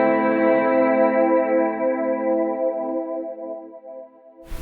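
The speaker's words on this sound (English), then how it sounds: "when the signal hits the pedal, it'll immediately start generating reverb" A sustained guitar note rings out through a reverb pedal, lush and shimmering, slowly fading over several seconds before a brief new attack at the end.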